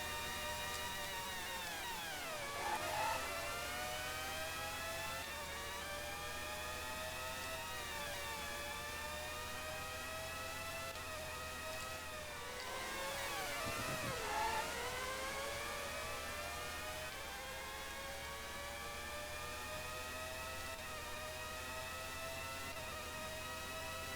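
Formula 1 cars in a 1997 racing video game at Melbourne, Australia: high, whining engines drone continuously, rising and falling in pitch as cars shift gears and pass, with two Doppler-like swoops of nearby cars.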